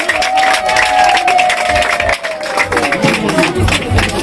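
Wedding guests applaud and cheer in a steady, loud wash of clapping with crowd noise and a sustained tone running underneath.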